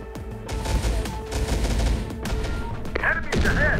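Gunfire in the video game Terminator Dark Fate Defiance, dense rattling shots and thumps packed together, loud and continuous, with electronic game sounds toward the end.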